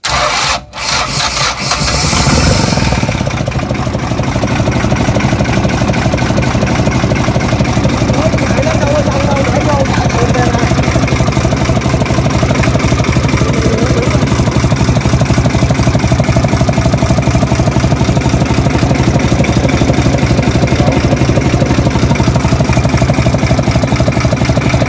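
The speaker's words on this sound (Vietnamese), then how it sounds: "bữa anh em nào có hỏi cái động cơ thì đây cái động cơ đây" An Iseki 3510 tractor diesel engine, an older unit, idles steadily and loudly up close after a brief knock at the start, its continuous mechanical rumble carrying on throughout while someone talks over it.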